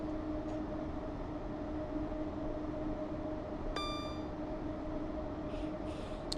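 Class 90 locomotive hauling a freight train in a train simulator gives a steady, loud rumbling roar with a constant tonal hum, a brief high-pitched rail squeal partway through, and faint squeaks near the end.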